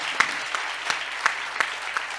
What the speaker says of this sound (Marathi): जोरदार जोरदार टाळ्या.